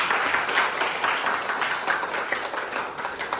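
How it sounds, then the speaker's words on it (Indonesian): Classroom applause as a teacher asks students to clap for everyone after a class agreement activity, dense continuous clapping from a group, fairly close and steady for the whole stretch. "Tepuk tangan untuk kita semua."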